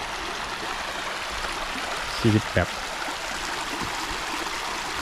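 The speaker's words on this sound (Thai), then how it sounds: "นี่ครับผมลำธาร" A mountain stream in Vang Vieng, Laos, rushes and trickles steadily in the background while someone speaks briefly over it.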